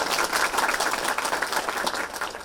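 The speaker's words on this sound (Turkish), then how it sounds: "Onlar için bir alkış istiyorum." A crowd applauds steadily at a community facility opening in Gaziantep, Turkey, dense clapping filling the space at an even level from start to finish.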